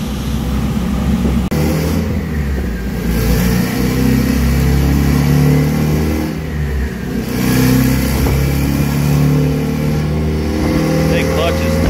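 A turbocharged RT wagon with a B-series engine revs hard on a dyno with a slipping clutch, giving a loud, sustained engine roar that swells and dips, with people talking over it.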